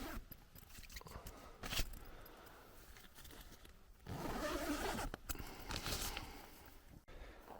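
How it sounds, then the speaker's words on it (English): Interior zippers on a pop-up camping toilet tent are pulled open in several long rasping runs, close and fairly quiet, with brief pauses and fabric rustle between strokes. "I'm going to open these interior zips."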